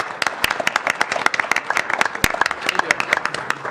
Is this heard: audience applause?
yes